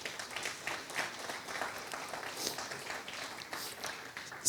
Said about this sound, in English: if you guys can just clap one last time for Doreen